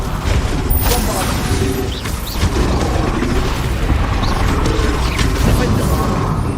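The Bombarda spell explosion in Hogwarts Legacy, heavy booming blasts and crashes within a dense, loud combat din that runs continuously with spoken spell shouts mixed in.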